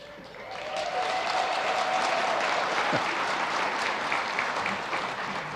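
Audience at a chamber of commerce annual meeting applauding as staff members are introduced, a steady, full round of clapping that builds quickly and holds throughout.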